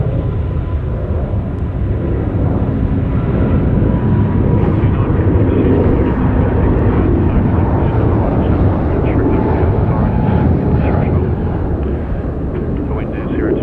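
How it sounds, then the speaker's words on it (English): A Thai Airways Airbus A350-900 takes off from runway 34 left at Sydney Airport, a loud, broad jet roar and rumble that stays steady throughout, with a person talking over it. "The 359 are about to take off, runway 34 left."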